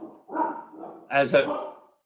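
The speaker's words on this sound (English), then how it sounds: "sorry about that, dog's barking" A dog barks once, sharp and fairly close, in the background during an indoor talk, partly blending with the voice of someone speaking over it.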